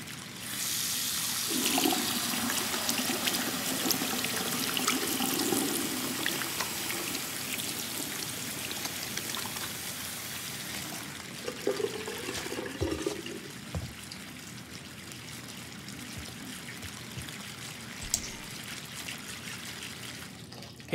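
Water runs steadily from a bath tap in Life Is Strange 2, a broad hissing rush that is loud at first, then eases to a softer trickle with a few small splashes and drips near the end.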